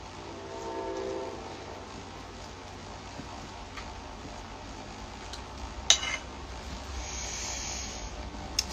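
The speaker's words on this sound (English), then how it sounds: "And the train is coming." A train passes with a steady low rumble, heard at moderate distance, broken by a sharp clank midway and a brief higher tone near the end.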